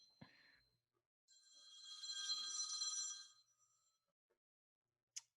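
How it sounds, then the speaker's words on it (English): A phone ringing during a conversation in a pub and brewery setting, one bright ring burst lasting about two seconds, fairly faint, with a short knock before and a click after. "Is that your phone?"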